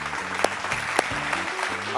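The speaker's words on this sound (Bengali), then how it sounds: "জোরে একটা হাততালি হয়ে যাক।" A studio audience on a Bengali family game show breaks into loud applause, dense clapping sustained for about two seconds with some voices mixed in.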